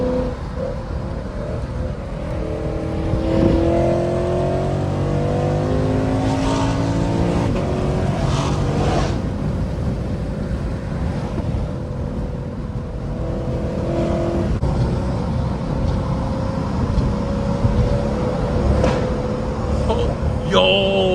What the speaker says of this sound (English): I'm not sure if you guys heard that pop